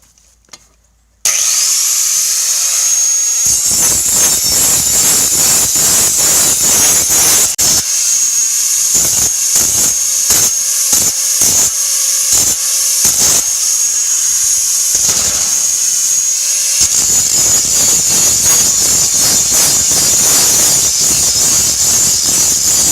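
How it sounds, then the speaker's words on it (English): Angle grinder smoothing the cut metal edges of a homemade roof rack wind deflector, a loud continuous high whine that starts after a second of quiet and runs steadily, with rasping surges and bursts as the disc bites the edges. "now I got my grinder on here to smooth out the edges"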